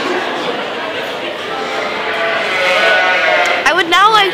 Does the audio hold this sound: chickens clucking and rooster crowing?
no